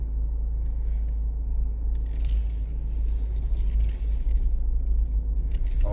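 A car with a suspected bad wheel bearing is driven slowly around a parking lot after wheel repair work, producing a steady low road rumble with occasional faint scraping and crackling, heard from inside the vehicle.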